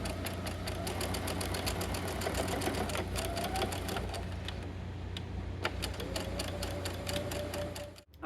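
A sewing machine stitches fabric in a fast, steady mechanical chatter of needle strokes with a low motor hum underneath, running continuously before stopping abruptly at the end.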